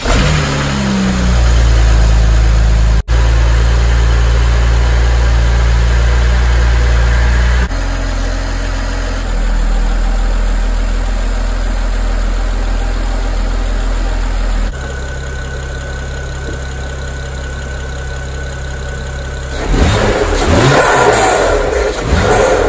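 A BMW N54 engine fitted with a Forge Motorsport charge pipe and blow-off valve starts up for the first time, then settles into a loud, steady idle. A strong rev rises near the end and takes over the last few seconds. No voices are heard.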